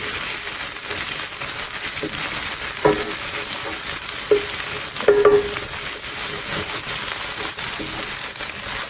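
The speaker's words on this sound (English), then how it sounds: "Give that a good stir." Ginger and garlic sizzle steadily in a hot pan as they are stirred, with several scraping clinks of a utensil against the metal over a constant frying hiss.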